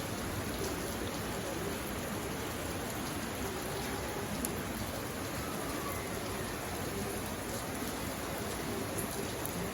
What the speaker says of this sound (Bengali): আজকে বৃষ্টি নামলো